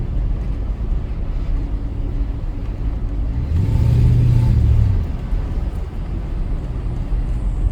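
A 1991 Jaguar XJS accelerates, its engine note swelling to a loud rumbling surge in the middle before easing back under steady road and engine noise.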